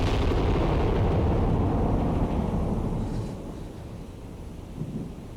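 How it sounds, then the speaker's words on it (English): A nine-gun broadside from the naval game Cold Waters rolls out as a deep, sustained rumbling roar, loud at first and then fading into a lower, drawn-out boom. "9-gun broadside."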